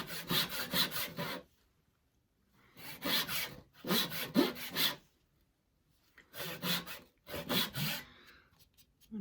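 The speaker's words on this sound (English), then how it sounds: "So just take the weight of the saw, nice and gently." Hand saw cutting a wooden halving joint, heard in three bursts of steady back-and-forth rasping strokes separated by pauses, close and clear with no talking.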